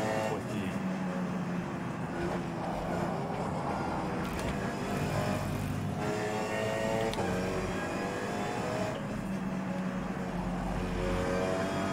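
Steady engine roar of racing cars in the racing video game rFactor 2, with rising and falling whines as they pass, continuous and fairly faint.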